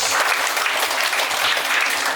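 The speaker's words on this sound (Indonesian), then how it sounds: "Tepuk tangan untuk Haris yang Jos, Wery Jos." Loud, sustained applause fills the room at an English and character camp at PEC Anugerah Villa in Bekasi as the crowd claps for Haris. The clapping is dense and continuous, close and unbroken.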